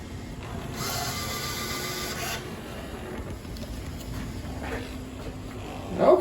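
An iRobot Braava jet 240 robot mop cleans a wet floor: a quiet, steady mechanical whirring and rubbing hum, with faint ratcheting textures and a brief louder scrape near the end.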